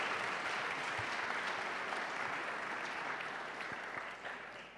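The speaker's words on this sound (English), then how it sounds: "Give them a round of applause, please." An audience applauds a finance panel at an event in Luxembourg, a dense, sustained wash of clapping that fades slightly toward the end, with no voices over it.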